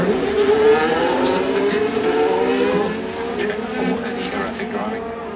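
A Formula 1 race car accelerating hard, a loud high-pitched engine whine climbing steadily through the revs and holding near, with a slight drop toward the end.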